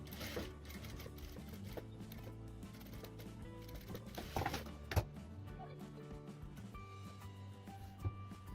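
A sewing machine stitches a blouse sleeve, giving a quiet, continuous mechanical whirr and ticking with occasional louder clacks, heard alone without talk.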